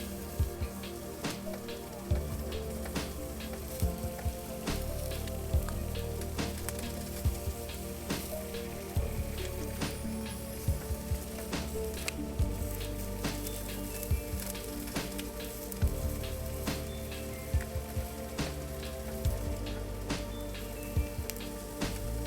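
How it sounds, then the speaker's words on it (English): Golden oyster mushrooms fry in oil in a pan with a continuous soft sizzle and scattered crackles and pops, steady and close throughout with no talking. "a lot of times with mushrooms I like to let them cook for 10 minutes before adding anything"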